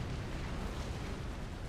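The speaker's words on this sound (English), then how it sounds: "the factory is being under fire" Tank fire striking a factory in a real-time strategy game, a dense, continuous rumble of explosions and impacts rolling on without break, with no voices.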